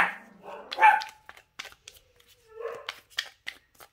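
A dog barks in the background indoors: a few separate barks, moderately loud, with quiet gaps between them.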